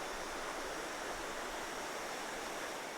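Steady, broad rush of a cascade waterfall at a rainforest swimming hole, a continuous hiss of falling water heard alone without talk.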